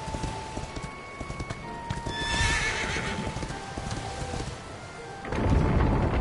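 A horse in the Dragon Quest XI role-playing video game gallops with quick, steady clip-clopping hooves and gives a clear whinny, with a low rumble swelling near the end.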